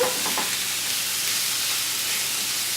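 Ground beef and vegetables sizzle in a hot pan while browning, a steady close hiss of frying with a brief clink of a utensil at the start.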